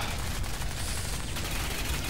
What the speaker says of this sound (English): Let's shoot him to the head.